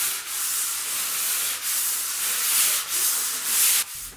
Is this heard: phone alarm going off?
no